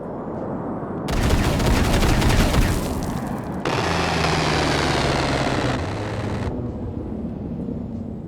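Long bursts of rapid-fire A-10 aircraft cannon roar in a video game, loud and continuous, shifting into a second sustained burst with a droning aircraft engine beneath.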